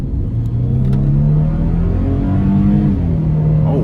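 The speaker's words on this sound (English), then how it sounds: "put my foot down, and we'll see how it accelerates, giving it full throttle." A 2005 Nissan Xterra S with a naturally aspirated V6 and a five-speed manual accelerates at full throttle. Its engine drone climbs steadily in pitch, drops briefly at a gear change, then climbs again, loud and close from inside the cabin.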